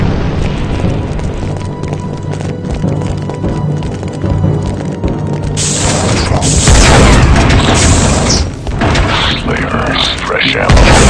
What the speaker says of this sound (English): Charge is armed, sir. Fire in the hole.